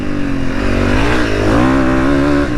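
A Honda CRF300 dirt bike engine, loud and close, revs hard and climbs in pitch as the bike lifts into a wheelie, holding a strained, rising drone throughout.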